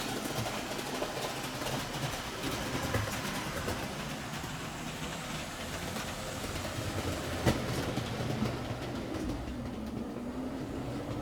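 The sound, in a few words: model railway train running along the track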